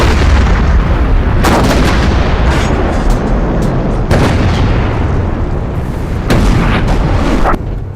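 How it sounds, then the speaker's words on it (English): Heavy World War I artillery shelling at the Battle of Vimy, with Canadian Corps guns firing into the German line: loud, continuous rumbling barrage with repeated sharp booming blasts at irregular intervals. "The heavy shelling has started."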